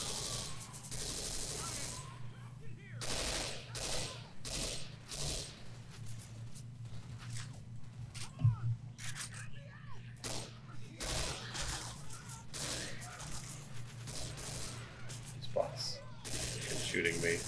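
Repeated gunfire bursts in the zombie shooter Left 4 Dead, during a headshots-only campaign, crackle through steady game noise while players talk over the action.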